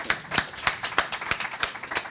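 A small audience at a crowdfunding talk gives sparse, distinct claps, a handful of separate hand strikes spaced irregularly and fairly quiet, with no talking over them.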